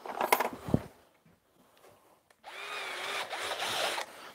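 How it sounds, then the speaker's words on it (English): A hand drill bores a hole straight through the middle of a workpiece while building a model TIE fighter, a steady whirring grind running for about two seconds after a few knocks and handling noises. "I'm going to drill a hole all the way through the middle"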